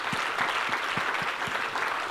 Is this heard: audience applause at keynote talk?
yes